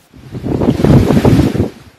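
Cyclone Remal battering the Bangladesh coast with a loud, roaring rush of storm wind and crashing waves that swells up and buffets the microphone for a couple of seconds, with no voices.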